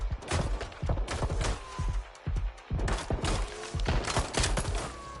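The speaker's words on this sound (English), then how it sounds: "Shots fired!" Rapid gunfire in the Watch Dogs: Legion video game, bursts of loud, close automatic shots with booming low thumps, pausing briefly between volleys and continuing steadily.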